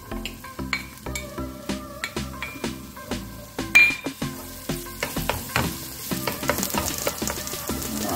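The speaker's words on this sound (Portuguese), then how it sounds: "vamos iniciar aqui dando uma fritadinha no nosso alho" A single garlic clove frying in sunflower oil in a pan, a steady close sizzle broken up by repeated clinks and scrapes of a utensil stirring against the pan throughout, with no voices.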